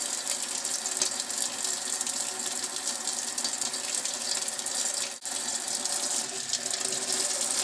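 Steady running water from a sink tap rinsing Ibanez Edge guitar tremolo parts over a strainer, a continuous close hiss with no talking and a brief dip near the end.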